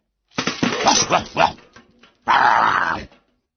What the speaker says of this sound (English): A big dog barked at Floppy. Go away, growled the dog.